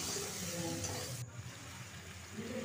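Water poured into a pan of softened tomato masala for egg curry, the loud steady sizzle of frying abruptly cutting to a quieter bubbling hiss as the liquid hits, with light stirring throughout.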